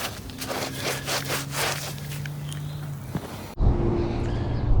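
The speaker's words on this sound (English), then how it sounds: "I'm just going to keep cleaning up these trowel marks with a sponge" A sponge scrubs trowel marks off freshly set stone and concrete on a patio, a close, steady back-and-forth rubbing with rhythmic strokes, followed by a sudden louder, broader scraping burst near the end.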